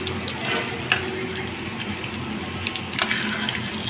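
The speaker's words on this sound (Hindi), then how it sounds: "बस बहुत कम ऑयल में फ्राई होते हैं ये" Shredded chicken resha kebabs with boiled potato shallow-frying in a little oil, a steady close sizzle with light crackle and a few soft clicks of handling, no talking.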